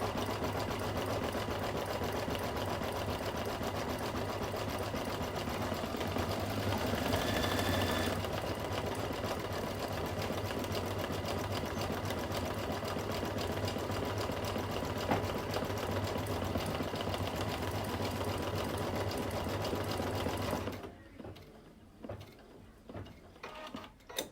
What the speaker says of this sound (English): So I'm just going to let it stitch for a little bit